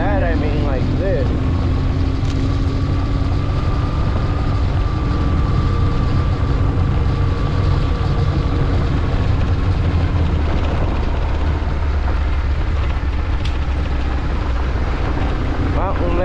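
A BMW GS motorcycle on a shaky ride gives a loud, continuous engine drone mixed with wind rumble and road vibration, steady throughout, with a voice talking over it at times.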